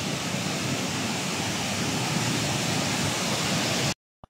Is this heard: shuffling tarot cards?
no